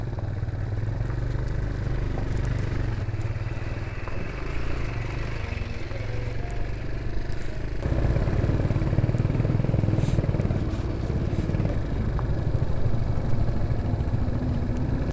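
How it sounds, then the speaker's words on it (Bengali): A 125cc motorcycle engine straining uphill on a mountain road, a loud continuous drone with rough clatter that grows a little heavier midway, with no talk. "আবার উপরের দিকে ওটা শুরু হলো, ইঞ্জিনে প্রেশার পড়ছে।"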